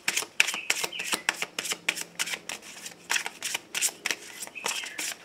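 Oracle cards are shuffled by hand in a quiet room, a rapid run of crisp riffles and slaps in uneven bursts, close and clear with no talking.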